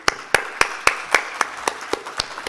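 A small crowd at a summit claps in a sparse, rhythmic way, with about ten distinct claps evenly spaced and near.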